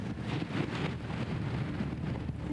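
Light wind buffets a microphone outdoors at a paragliding site, a low, steady rumbling rush with gentle gusting swells and no other sounds.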